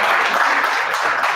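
An audience at a youth meeting in Lira City bursts into dense, loud applause, a continuous wash of many hands clapping close by with no break.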